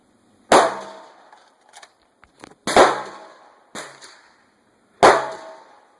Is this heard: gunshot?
yes